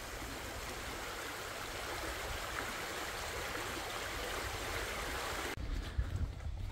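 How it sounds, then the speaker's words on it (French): The small Aumignon river flows beside a woodland walking path in the Aisne, France, a soft, continuous rush of running water heard fairly close and steady throughout, with a brief shift in texture near the end. "avec un petit bruit d'eau qui coule pas loin de nous"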